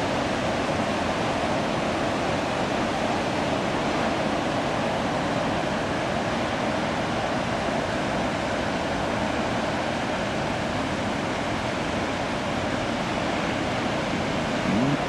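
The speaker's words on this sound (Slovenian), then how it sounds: "Moč morja. Moč Atlantika ali Pacifika, to bomo rekli, ja." Ocean surf pounds the Australian coast below a coastal mountain range, a loud, continuous broadband roar of breaking waves that fills the whole stretch with no pauses and no voices.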